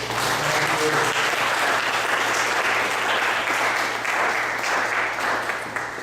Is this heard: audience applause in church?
yes